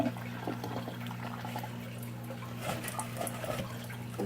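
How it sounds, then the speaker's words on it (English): Water is poured onto the soil of a potted Triostar plant, a soft, steady trickling and splashing that stays fairly quiet and continuous over a low background hum, with no talking. "I'm just going to make sure I soak the soil"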